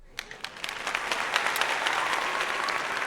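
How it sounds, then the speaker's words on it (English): Dense, steady applause from a small crowd during a livestream, moderately quiet, with many overlapping claps and no talking. "So round of applause for them."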